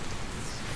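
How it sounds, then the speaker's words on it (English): Steady rain falls in the zombie video game Dying Light, a continuous wash of hiss and patter that stays even and fairly quiet throughout with no voices over it. "Oh, hey, it's raining."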